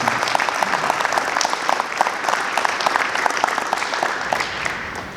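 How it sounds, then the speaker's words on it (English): An audience applauds at a high school archery college signing event: steady, even crowd clapping that holds for several seconds with sharp individual claps standing out. "let's give them a round of applause for their accomplishments"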